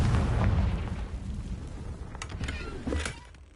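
In Hogwarts Legacy, the Confringo blasting spell goes off in a dusty, cobwebbed room. A loud booming blast opens, then the rumble decays as sharper crackling bursts follow.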